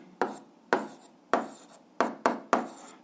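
Someone writes out an algebra math solution by hand, producing six quiet, sharp strokes in an uneven rhythm, each a short scratchy rasp that fades quickly, with no talk.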